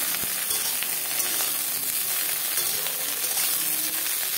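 Eggplant pieces frying lightly with turmeric in a pan, giving a dense, even sizzle that stays constant and close throughout with no speech over it.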